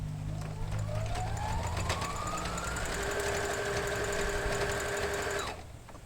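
A sewing machine runs steadily while stitching an appliqué on a flower placemat, a continuous close mechanical whir with a rising whine layered over it that stops abruptly near the end.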